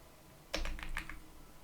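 Computer keyboard being typed on while coding, a quick burst of a few soft clicking keystrokes close by over faint room hiss.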